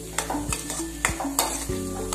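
Salty peanut lapsi with coriander leaves being stirred in a pan, a spoon scraping in repeated strokes over a soft sizzle, close and clear with no talking.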